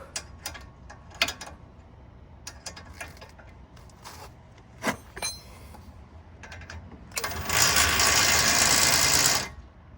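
A ratchet tightens a control arm bolt on a 2014 Nissan Altima 2.5 S, with scattered individual clicks followed by a longer burst of rapid, sustained ratcheting near the end, heard close by.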